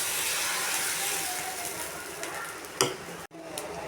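Onion dosa batter sizzles steadily on a hot griddle, a close, even hiss running throughout with a brief scrape near the end and a momentary dropout just after.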